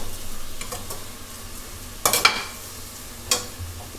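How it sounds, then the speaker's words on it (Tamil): Rice is sautéed and stirred in a pan for a coconut milk rice lunch dish. A faint, steady sizzle is broken by a few sharp utensil scrapes and clinks against the pan. "சும்மா ஒரு முறை இப்படி சேர்த்து வதக்கி விட்டுடலாம்."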